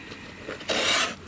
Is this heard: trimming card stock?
yes